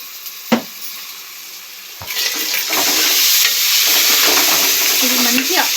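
Onion frying with ginger garlic paste for a chicken gongura pulav, starting with a couple of sharp clinks before a steady loud sizzle builds and holds, with stirring scrapes throughout.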